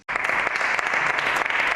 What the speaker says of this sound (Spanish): Escuchamos los aplausos de hoy en el Congreso de los Diputados a la limpiadora